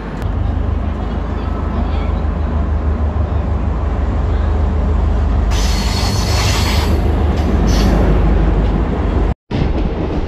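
A train rolls in at Sevok station in North Bengal on the Sevok–Rangpo line, a loud, steady rumble of wheels and carriages that swells with brighter hissing and squealing partway through before a brief cut.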